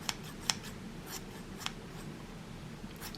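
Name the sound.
scissors trimming yarn pom-pom Christmas pudding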